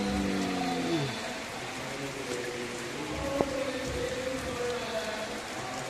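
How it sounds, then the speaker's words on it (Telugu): Heavy rain pours steadily near a hilltop church in Kothavalasa, a dense continuous hiss with a single brief tap standing out midway and no talk. "ఫుల్ వర్షం పడిపోతుంది చూడండి."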